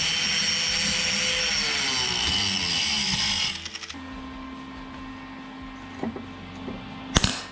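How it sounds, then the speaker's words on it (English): An angle grinder works over a welded quarter-inch steel cross mount on an e-bike swingarm, a loud steady high whine for about three and a half seconds before cutting off, followed by quieter shop hum and a few sharp clanks. "So I guess I'll clean up this area here, the grinder."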